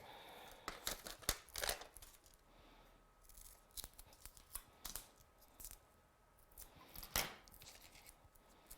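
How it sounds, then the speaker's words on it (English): Scissors snip small pieces from craft pads for scrapbooking, with quick close cuts, paper rustling and crinkling between them in a quiet room. "Now I am going to cut the pads small though."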